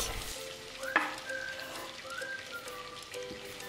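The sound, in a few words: onion and garlic frying in oil and butter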